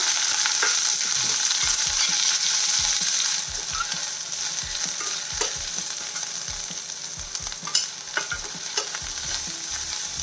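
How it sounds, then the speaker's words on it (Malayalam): Chopped onions sauté in a hot pan for a raw jackfruit dish, giving a loud, continuous frying sizzle close up, broken by repeated soft scrapes and knocks of a stirring spoon. "ഈ സവാള നല്ലപോലെ ഒന്ന് വഴണ്ടി വിട്ടിട്ട്"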